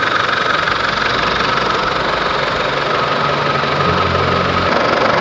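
A Chevrolet Colorado engine runs at idle after a turbo replacement, a steady loud mechanical drone with an even knocking texture, heard close and without talk.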